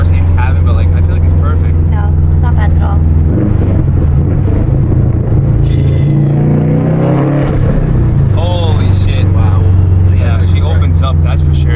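A Subaru WRX STI fitted with a Tomei exhaust revving loudly, a deep, overloaded engine drone rising and falling close to the microphone, with excited voices talking over it.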